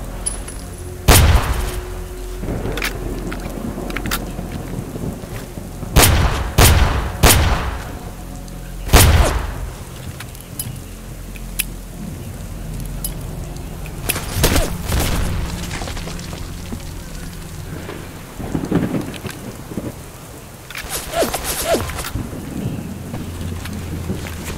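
Grenades explode in the STALKER A.R.E.A. shooter game: several heavy booms at irregular intervals, some in quick pairs, each followed by a rumbling tail over a constant rain-like wash of noise, with no talking.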